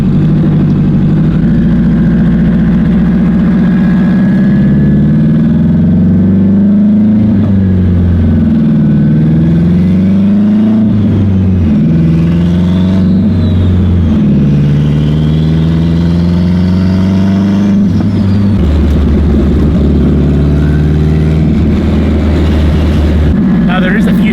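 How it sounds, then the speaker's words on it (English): A turbocharged Honda Civic Si engine drones loudly close by, repeatedly revving up and dropping back in pitch, with a voice occasionally talking over it. "just listen to this car"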